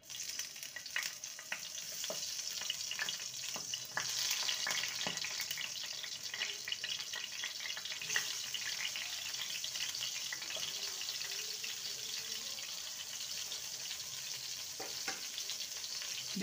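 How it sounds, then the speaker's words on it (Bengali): Eggplant slices fry in a well-heated pan, giving a steady, close hiss of sizzling oil with occasional small crackles and pops throughout. "এবারে বেগুনগুলোকে ছেড়ে দেব।"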